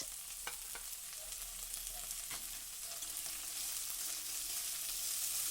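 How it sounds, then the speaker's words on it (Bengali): Chopped onion, carrot and beans being stir-fried in hot oil, a steady close sizzle with faint scraping from stirring, continuous throughout with no talk. "এগুলো দিয়ে তেলের মধ্যে একটু নাড়াচাড়া করে নেব"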